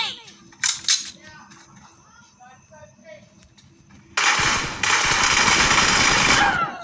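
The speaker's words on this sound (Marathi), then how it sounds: "अरे मी पण गोळ्या मारतो की त्याला" A sustained burst of rapid automatic gunfire in a video game erupts loud and dense after a stretch of quieter in-game sounds, then runs unbroken for a couple of seconds.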